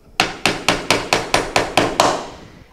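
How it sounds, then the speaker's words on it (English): Eight evenly spaced, sharp hammer blows drive a nail into a wooden birdhouse, each strike ringing briefly before the next, close and loud with no talking. "I'm going to hammer the first nail"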